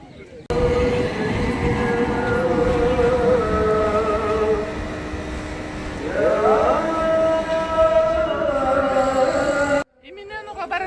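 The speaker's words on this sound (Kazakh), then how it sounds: "Имененуға бара жатқан трамвайдың жолы тура Айя Софияның қасынан бұрылады." A tram in Istanbul passes near Hagia Sophia on a line that turns close by. It gives a loud, sustained rolling rumble with drawn-out metallic squeals that rise in pitch midway, then cuts off abruptly near the end.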